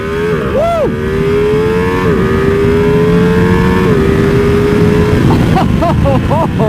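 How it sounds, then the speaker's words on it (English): 2020 Ducati Panigale V2 sport motorcycle accelerating hard up a highway on-ramp, its twin-cylinder engine climbing in pitch through several gear shifts, loud and close, with wind noise and brief vocal shouts at the end. "highway on-ramp, 2020 Ducati Panigale V2"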